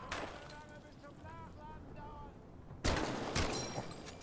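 Gunfire in the video game Medal of Honor: Above and Beyond, distant shots and a soft whining tone before a louder burst of firing near the end, with no talking.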